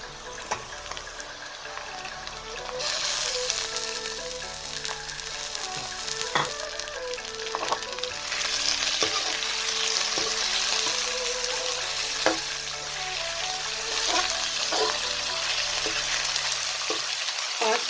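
Mutton frying in oil together with garlic, ginger and onion, a steady close sizzle with scattered pops and stirring clatter, unbroken with no talk throughout.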